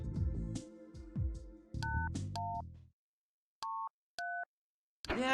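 Telephone keypad tones dialing 8137 in the video game Runaway, several short paired beeps spaced apart after a stretch of game music, fairly faint overall.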